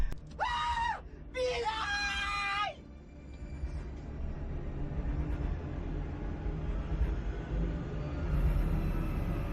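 A horror-story scream rings out loud and near, with rising and falling wails over about two seconds. A low rumbling ambience follows and carries on to the end without further voices.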